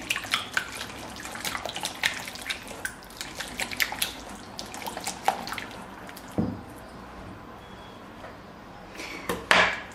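An egg is whisked into sour cream with a whisk, producing rapid, irregular light clicks and taps against the bowl that are close and fairly quiet, thinning out toward the end, with no talking.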